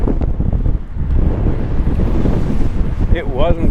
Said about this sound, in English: Struggling against a headwind.